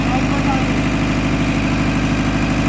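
A plain engine idles steadily at close range, a continuous low rumble with a regular pulsing throb and faint vibration, constant in level throughout with no talk over it.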